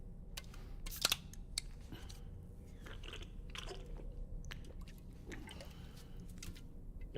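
Bugs are eaten in a video game, giving quiet, repeated crunchy chewing and biting clicks in an irregular rhythm over a low, steady background hum.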